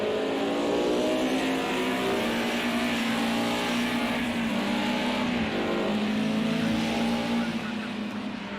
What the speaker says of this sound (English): hear the motors of these cars screaming nicely.